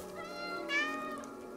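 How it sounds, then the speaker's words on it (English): Cat meowing in a video game, triggered by a dedicated meow button: a single drawn-out meow, fairly close and clear, alone without talk. "Because there is a dedicated meow button."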